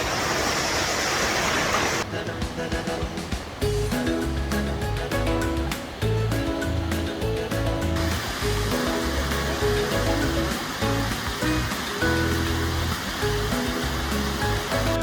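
A waterfall pours steadily near Los Barriles, Baja California, a loud, dense rush of falling and flowing water that fills the whole stretch without pause, with a brief shift in tone partway through.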